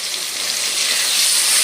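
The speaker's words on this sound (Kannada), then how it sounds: "ಇಲ್ಲಿ ಎಣ್ಣೆ ಹಾಕ್ಬಿಟ್ಟು ಈರುಳ್ಳಿ, ಟೊಮೊಟೊ, ಕ್ಯಾಪ್ಸಿಕಮ್ ಸ್ವಲ್ಪ ಒಂದು ಅರ್ಧ ಫ್ರೈ ಮಾಡಬೇಕು." Onion, capsicum and tomato fry in hot oil with a loud, dense, continuous sizzle, close up and with no voices.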